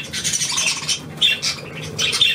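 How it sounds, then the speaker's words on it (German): A pet budgerigar gives sharp squawks and chirps in several quick bursts close by, with short gaps between the calls and no talking. "Die kleine Weißbeere, das ist Vogel Nummer 1."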